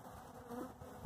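Honeybees buzzing around a hive during a queen rescue, a continuous close, fairly quiet drone with no talking.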